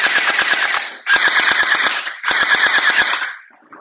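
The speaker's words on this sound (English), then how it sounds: "All right, so you can see it's shooting good." A PIECIS Scorpion submachine gel ball blaster with drum magazine fires three rapid full-auto bursts of sharp, evenly spaced clacks over a motor whir, close and loud, with short pauses between bursts.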